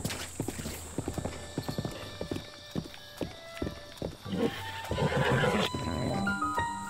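Horse hooves clip-clop in a steady galloping rhythm with a neigh and whinny near the end, set in the game Zelda: Breath of the Wild, near Kakariko Village in a valley with goats; loud and close, alone without talk.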